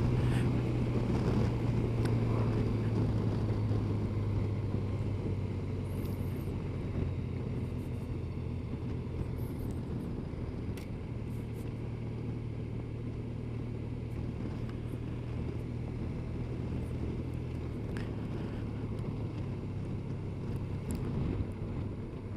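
A Honda Crosstourer motorcycle cruises in DCT economy mode, its engine a steady low drone at constant revs, mixed with heavy wind rush over the rider's helmet; no talking.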